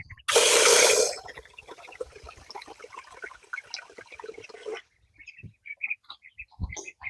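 A garden tap gushes loudly for about a second as water is run for backyard ducks. Fainter splashing and trickling follow for several seconds, then scattered small knocks and bird sounds.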